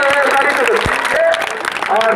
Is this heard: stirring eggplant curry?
no